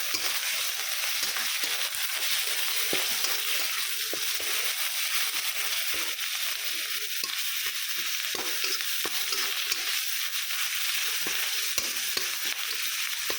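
Garlic sizzles steadily in a hot pan after salt is added, a dense, even frying hiss with occasional scrapes and clicks of stirring, close and continuous with no talking.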